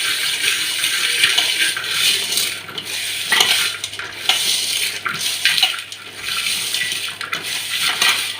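Water splashing and swishing as salted bitter gourd pieces are washed by hand in a vessel, with intermittent sloshes and light clinks of the pot, close and steady without speech.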